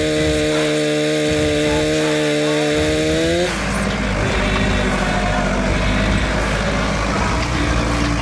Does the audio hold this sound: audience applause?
no